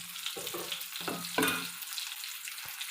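Murrel fish frying in hot oil in a pan, a steady close crackle and sizzle with occasional bursts of spattering and a brief scrape, no voices.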